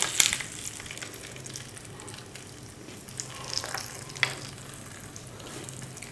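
A paratha fries in ghee on a hot tawa, giving a steady, moderate sizzle close by with a few light scrapes and clicks, and no talking.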